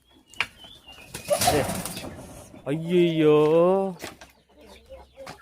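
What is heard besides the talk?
guinea fowl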